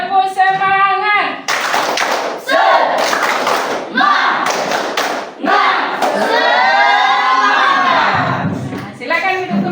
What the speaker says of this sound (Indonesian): kita tepuk semangat terlebih dahulu supaya tidak ngantuk